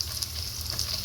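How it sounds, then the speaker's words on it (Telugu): Frying in a pan for an egg and dried fish curry makes a brief, continuous close-up sizzle that stays steady and fairly loud throughout. "చూడండి, ఫ్రై అవుతున్నాయి."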